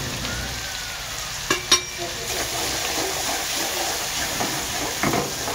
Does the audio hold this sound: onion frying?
yes